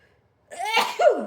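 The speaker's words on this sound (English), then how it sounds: "I've been sneezing a lot." One sharp sneeze near the mic, a quick inhale and then a forceful burst, with nothing else around it.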